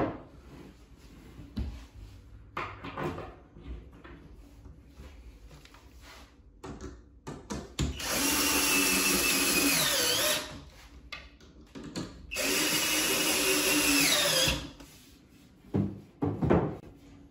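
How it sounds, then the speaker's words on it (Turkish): A cordless drill drives screws into furniture panels while assembling a cooktop module unit, whirring loudly in two sustained bursts with quieter handling knocks and clatter between them. "Yıldız torna vida, şarjlı matkap kullanabilirsiniz."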